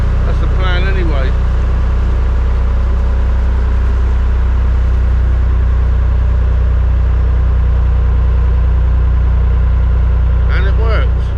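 Narrowboat engine throttling up to pull away from the canal bank, a loud, steady low drone throughout, with someone briefly speaking over it at the start and end.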